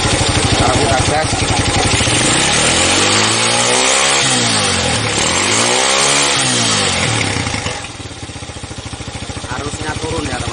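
A Honda Tiger motorcycle engine revs up and falls back in two rising-and-falling sweeps, loud and close, then drops toward a lower idle near the end.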